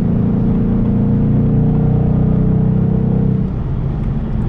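A Ford Mustang Bullitt fastback's 460-horsepower V8 holds a loud, steady, throaty drone at high revs, then eases off and drops in pitch near the end, with no voices over it.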